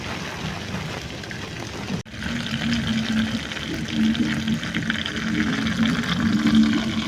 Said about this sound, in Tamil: தேவையான அளவுக்கு தண்ணி கொஞ்சமாக ஊற்றிப்போம்